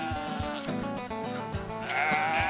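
Sheep in a flock bleat repeatedly, several overlapping wavering cries following one another close by, loud and alone without speech.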